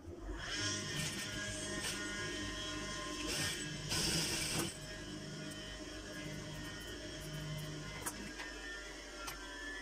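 Sewing machine stitching a fabric sleeve, a steady fast mechanical whirring and clatter at close range, briefly louder in the middle before settling, with no talking.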